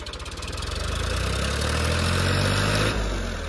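Farmtrac 45 and Mahindra 265 tractor diesel engines roar loud and close during a tug of war, a steady throbbing rumble that swells and holds under strain, with no talk.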